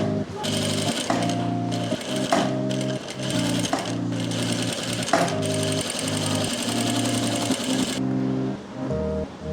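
Sewing machine stitching a kurti, running in a steady rapid rhythm with short pauses and restarts between bursts, close and loud with no talk over it.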